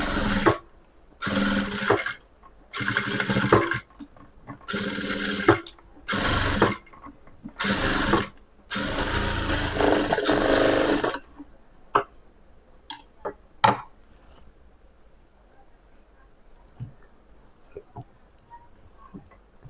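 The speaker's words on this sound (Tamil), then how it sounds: "இப்போ இதில் மேலே ஒரு படிமான தையல் போடுறேன்" A sewing machine stitches a lined blouse in a series of short, loud, separate runs for the first eleven seconds, followed by scattered clicks and light handling noises in a quiet room.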